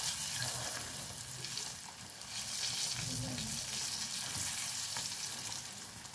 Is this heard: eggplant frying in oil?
yes